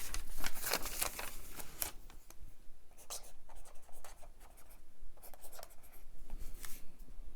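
A reMarkable 2 tablet pen writes on a small paper notebook, producing scratchy strokes in irregular bursts up close, with a brief spoken word.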